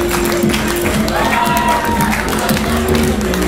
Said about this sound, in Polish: Przywitajcie go wielkimi brawami